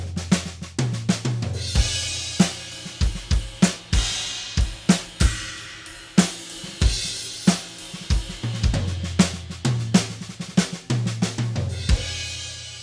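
A full drum set plays a steady groove, recorded with room mics and processed with EQ and light compression. Punchy kick hits and sharp snare and cymbal strikes repeat loudly and rhythmically for several bars, with no voices.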